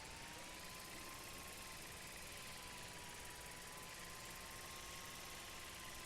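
A small toy drone in the game Life Is Strange flies itself around a campus, giving a steady, fairly loud buzzing whir with a faint rising and falling whine, unbroken for several seconds with no talking.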